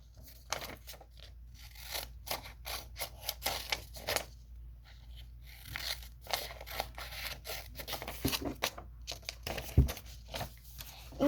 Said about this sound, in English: Now you take some scissors and you cut out the triangles.